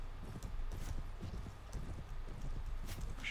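Cavalry horses gallop in the video game Mount & Blade: Warband, with fast, close, uneven hoofbeats pounding continuously for a few seconds and a hint of a whinny.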